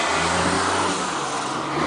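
A truck passing on a city street in North Hollywood produces a loud, close, broadband engine roar that holds steady for under two seconds.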